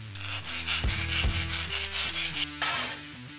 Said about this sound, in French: Oh non, ma scie!